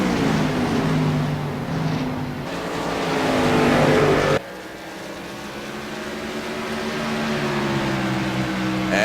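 Race cars lap Richmond International Raceway in the AMS Children's Dream Racer Cup Series, engines droning steadily with shifting pitch. The roar dips sharply midway, then builds again as cars pass, with no talk over it.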